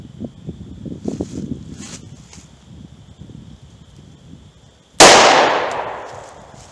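A single loud handgun shot of Buffalo Bore TAC XP 110 grain +P ammunition, fired in a wood penetration test outdoors, cracks sharply and decays over a second after quiet rustling and wind.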